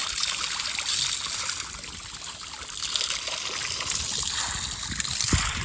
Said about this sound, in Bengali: আমাদের সুমন বাবাজি খাম্বায় জল দিচ্ছে